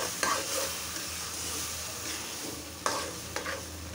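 Pre-steamed lentils sautéed in a pan with cooked-down spices, giving a soft continuous sizzle broken by a few sharp scrapes and knocks of stirring, close and alone without talk.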